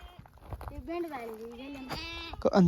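Sheep bleat at close range, a long wavering cry followed by shorter calls, with people talking nearby on a shepherd family's homestead.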